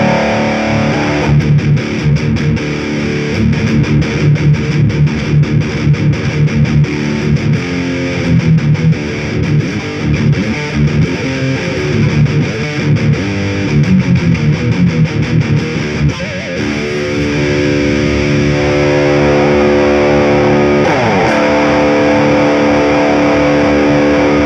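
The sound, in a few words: electric guitar through metal distortion pedal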